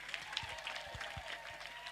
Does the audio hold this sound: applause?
yes